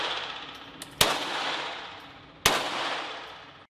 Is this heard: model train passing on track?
no